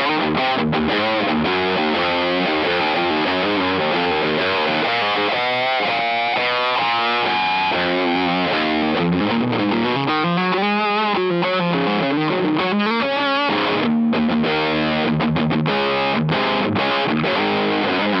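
Electric guitar driven through a Keeley Electronics Oxblood overdrive pedal into an amp, thick saturated distortion on sustained chords and bending lead lines, loud and unbroken from start to finish.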